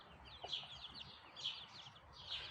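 Soft, repeated clucks from a mother hen come in short bursts at a steady pace, fairly faint and close by, with no talking.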